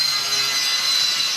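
Final sanding and polishing on a heavy welded metal rack produces a continuous, bright, hissing abrasive whine, close and steady, with no talking.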